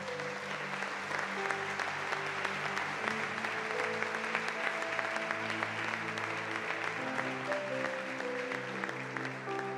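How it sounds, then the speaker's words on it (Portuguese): A church congregation applauds in a continuous dense wash of clapping, with sustained musical tones running underneath throughout. "Aplauda o Senhor pela palavra."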